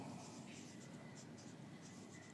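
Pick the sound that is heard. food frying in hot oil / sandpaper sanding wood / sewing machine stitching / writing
writing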